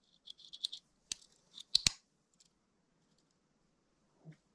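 Small metal clicks and snips from the scissors of a Victorinox Huntsman pocket knife, a quick cluster of sharp ticks followed by a couple of louder snaps, then quiet.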